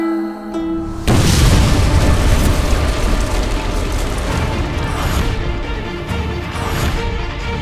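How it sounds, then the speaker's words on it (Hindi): A loud explosive boom from a magic show erupts suddenly and sustains as a broad rumbling roar with rattling, mechanical clatter, following a short quiet tonal passage of music. "ये कैसा धमाका था?"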